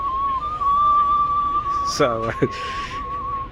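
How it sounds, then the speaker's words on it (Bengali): A bamboo flute (bansi) holds one steady, sustained note, with a man's short exclamation of praise cutting in near the end. "বাঁশি বাজাচ্ছে, বাজা ভালোভাবে বাজাও"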